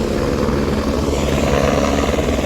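A passenger helicopter comes in to land at the Kedarnath helipad, its rotor and engine a loud, steady continuous drone with a throbbing low chop, close by and uninterrupted by talk.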